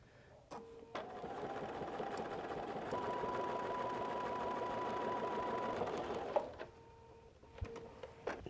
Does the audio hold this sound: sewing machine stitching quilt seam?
yes